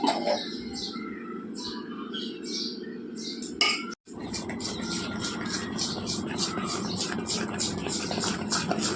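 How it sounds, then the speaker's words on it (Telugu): A spoon stirs punugulu batter seasoned with cumin and salt, making steady, rhythmic scraping strokes close by over a low background hum. "అట్లా కలిపిపోవాలా ఇలా కలిపేసుకొని పునుగులు వేసుకోవాలి బాగా కలవాలి"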